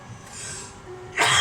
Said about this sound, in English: Sorry about my cough there